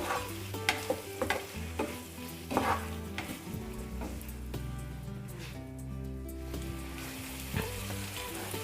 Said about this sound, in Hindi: इसको भी हल्के हल्के हाथ से हम मिक्स कर देंगे।